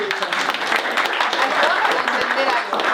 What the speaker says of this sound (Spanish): Le damos un aplauso a Sebastián.